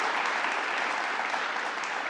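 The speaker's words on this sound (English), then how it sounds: "So let's give a special round of applause to Mayor Shawyn Patterson-Howard." Sustained applause from a crowd greeting a mayor at a public event on water infrastructure, steady and dense throughout with no breaks.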